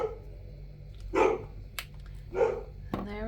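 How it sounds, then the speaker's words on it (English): A dog barks a few times in the background while someone works on a small time-machine-inspired art piece, the barks muffled and moderately distant against a steady low hum. "My doggy's barking."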